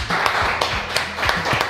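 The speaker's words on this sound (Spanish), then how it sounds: "hoy jueves recibimos con un fuerte aplauso a nuestro amigo Javier Trimboli." Applause and clapping from a studio audience welcoming a guest on a talk programme, steady and moderately loud for the whole stretch, with sharper individual claps standing out from the wash.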